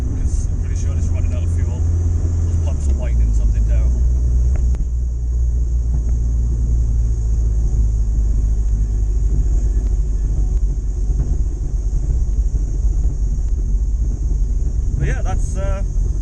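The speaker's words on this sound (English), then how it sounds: "Those pumps are whining something terrible." A Ford Capri with a Zetec turbo engine runs with a deep steady rumble while its fuel pumps whine; the drone continues throughout, with a short burst of sound near the end.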